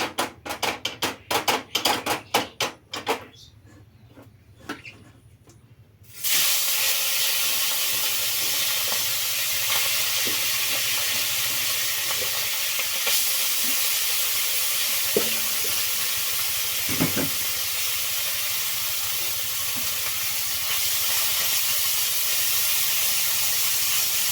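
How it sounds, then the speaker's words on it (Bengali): Fish frying in a small amount of oil gives a steady, close broadband sizzle that starts abruptly after several seconds of scattered clicks and clatter, then holds evenly to the end with a few faint knocks. "আজকে তেল কম করে দিয়ে ভেজে দেখি তো মাছ ভাজা হয় কি নি"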